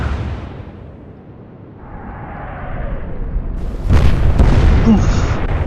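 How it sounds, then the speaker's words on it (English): A large shell explosion in the Atlantic Fleet naval warfare game, heard as a heavy low boom that bursts in about two-thirds of the way through after a quieter whistling lead-in, followed by rumbling debris and a rising high tone. "that was a big explosion"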